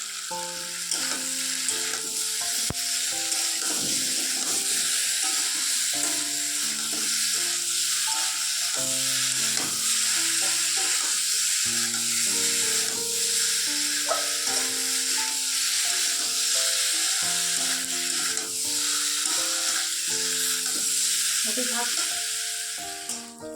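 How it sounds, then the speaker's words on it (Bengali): Potatoes frying in a pan with salt and a little turmeric give a steady, dense sizzle that runs unbroken throughout, with soft stirring scrapes and faint background music-like tones. "এদিকে আলুটা ভাজা ভাজা হয়ে গেছে।"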